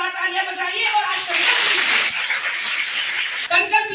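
Students and volunteers at a girls' degree college event clap together in a short mid-clip burst, framed by a voice speaking before and after, with a little laughter mixed in.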